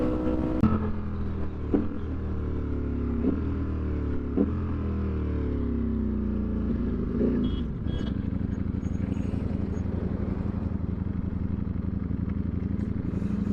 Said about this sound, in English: Doing it on a naked motorcycle, these kind of speeds is something else.